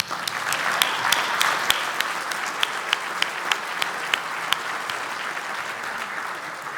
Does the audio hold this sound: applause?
yes